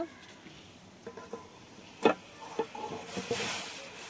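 Water boiling in a wok, ready for steaming hilsa fish with green chillies, gives a soft hiss with small bubbling pops and a clink, and the steam builds to a louder rush near the end.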